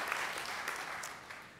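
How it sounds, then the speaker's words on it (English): Audience applause for orientation leaders at a college matriculation ceremony, a steady wash of many hands clapping, heard from a distance and fairly soft. "So give you a round of applause for the orientation leaders"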